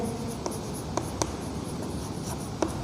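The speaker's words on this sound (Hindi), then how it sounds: "आइए सबसे पहले लिखेंगे सॉल्यूशन" Pen or chalk writing out a maths solution: faint scratching over a steady background hiss, with a few sharp taps scattered across the stretch and no talk.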